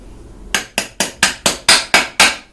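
Hammer driving a 6201 bearing into place on a ceiling fan, eight sharp, evenly spaced metallic strikes growing slightly louder, close and loud with no talking.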